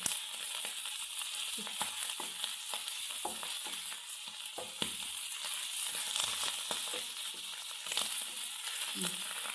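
Dried sardines frying in oil in a pan, a steady hissing sizzle with dense popping crackles throughout, close and continuous, with occasional faint stirring sounds.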